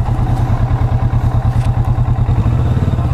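Kawasaki Vulcan S motorcycle engine heard while riding, a loud, close, rhythmic low-pitched thrum with steady pulsing beats and wind buffeting, continuous throughout with no talk.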